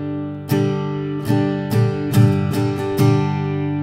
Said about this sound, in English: if I was playing a G on a regular guitar, it'd sound like this